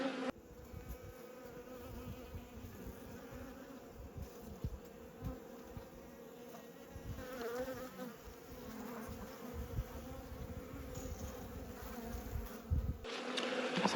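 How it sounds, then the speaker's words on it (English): Honey bees buzz around an opened hive during a late-season inspection, a close, continuous droning hum with individual bees flitting past, quiet overall, with a few soft knocks near the end. "Plenty of bees up the top here."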